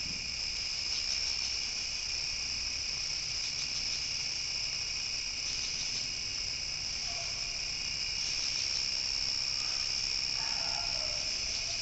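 Crickets chirp at night in a dense, unbroken high trill held throughout, with fainter intermittent chirps from other insects drifting in underneath and no voices.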